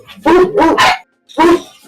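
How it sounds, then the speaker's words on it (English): Dogs bark loudly and close by in a burst of three quick barks, then a pause and one more bark, with no talk in between. "the dogs are barking"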